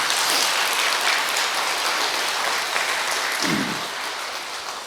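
An audience claps together at a Buddhist dharma talk, a dense even wash of applause that holds steady and then slowly thins out toward the end, with no voices over it.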